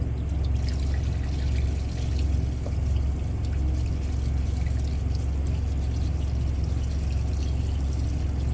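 Diesel fuel pouring and splashing steadily while a fuel filter is changed on a Detroit 60 Series engine in a Freightliner Century Class, a loud continuous liquid stream with trickling over a low steady hum.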